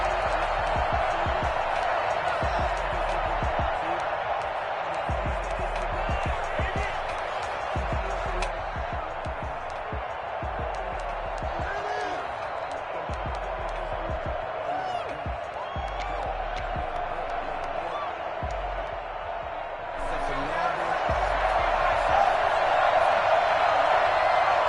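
A steady, dense stadium crowd roar from a Madden football game, with fans buzzing and cheering before a Colts versus Ravens matchup; the noise holds loud throughout and swells slightly near the end.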